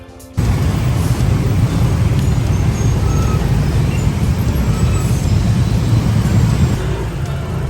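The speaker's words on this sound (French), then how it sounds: "il y a énormément de trafic à Bali, énormément de motos" Dense, continuous street traffic in Bali, with a steady wash of engine and road noise from many passing motorbikes, loud and close throughout, with no voices.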